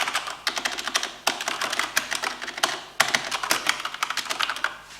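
Rapid typing on a Corsair K70 MK2 mechanical keyboard, a dense run of sharp, clacky keystrokes with brief pauses, close and clear with no talk.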